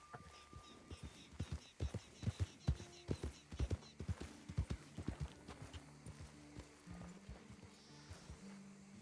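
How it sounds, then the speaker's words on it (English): Rhythmic hoofbeats of a horse in the RedM western game draw closer, a clear clip-clop pattern repeating for several seconds, fairly quiet overall, then easing into a slower, softer gait. "I hear a horse"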